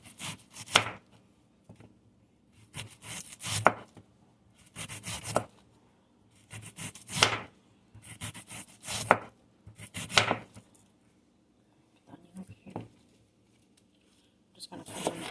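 A knife chops through an onion on a cutting board, with roughly nine sharp cutting strokes in uneven bursts, close and crisp, with brief pauses between cuts.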